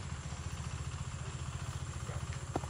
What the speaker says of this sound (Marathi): ट्रॅक्टर कानासाठी चालवतात?